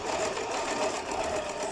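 Sewing machine running steadily along a skirt seam on a fan-pleated skirt mock-up, a continuous close, even whirring hum without pause.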